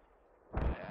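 A mortar round detonating in the military shooter game Squad, one heavy booming blast that hits suddenly after near silence and then rumbles away over a moment.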